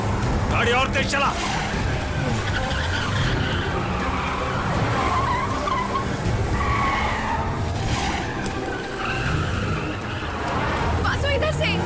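Car speeding and skidding during a high-speed chase in an action film, with a continuous loud engine roar and tire noise throughout, layered with shouting voices and dramatic background sound.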